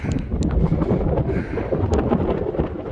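Strong wind gusting across the Royal Gorge suspension bridge high above the gorge, a loud continuous roar and buffeting that fills the whole stretch without pause.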